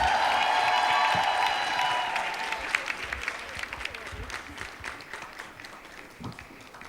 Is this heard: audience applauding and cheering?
yes